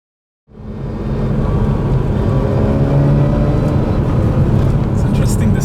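Mazda RX-8 rotary engine running steadily inside the car, a dense, loud low drone that sets in after a brief silence and holds even, with a buzzy, motorcycle-like texture.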